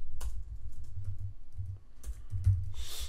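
Someone types code on a computer keyboard, a quick uneven run of close clicks and key taps in short bursts, with no talking.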